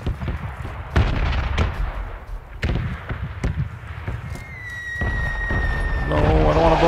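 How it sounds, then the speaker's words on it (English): Gunfire rings out in a PUBG squad match, loud sharp shots landing at irregular intervals over a steady game background, followed by a rising tone near the end. "Yeah, they're shooting at me."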